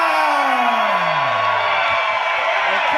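A wrestling crowd at an OVW live event roars loudly and without a break for the Rush Division champion. Close, dense cheering and whooping carry over a falling yell throughout.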